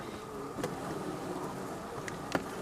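A honeybee colony hums inside a hive, a low, continuous buzz heard close and fairly quiet, with a few brief sharper clicks or taps breaking through.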